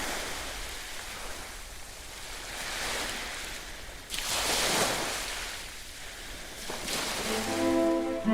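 Ocean surf rolling and washing ashore, a steady broad roar that swells into louder crashing waves, continuous and enveloping with no voices.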